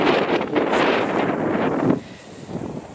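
Gusty wind rushes straight into the microphone on an open cattle pasture, a loud rumbling buffet that eases off for the last second, with no voices.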